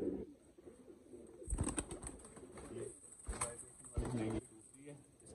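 Teddy pigeons cooing softly and repeatedly, with short rustles and bursts of movement among the birds and a faint steady background hiss.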